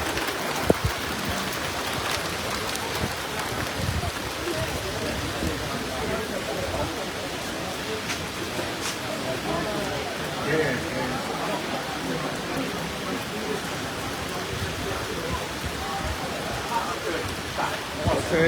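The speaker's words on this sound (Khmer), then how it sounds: "ភ្លៀងខ្លាំងបាត់ហើយ" Heavy rain falls at Mawson Lakes with a steady wash of drops and splashes, while people talk over it at times.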